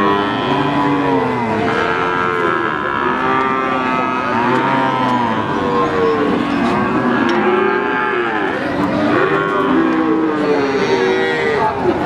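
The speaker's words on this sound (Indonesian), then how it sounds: "Ini ada juga sapi simetal cross." Simmental cross cows mooing repeatedly at a cattle market, long loud overlapping lowing calls rising and falling throughout, with a few more animals joining in the background.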